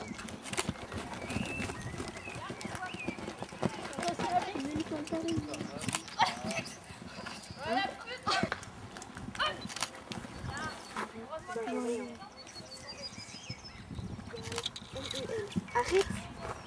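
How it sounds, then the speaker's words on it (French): Horses clip-clop outdoors on a spring Sunday, with scattered hoof knocks mixed into almost constant talking and faint birdsong. "Arrête, il y a des chevaux, Lolo."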